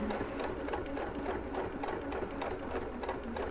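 Sewing machine stitching in free-motion thread painting, needle running in a fast continuous rapid rhythm with slight pulsing as the fabric moves forward and back, close and steady.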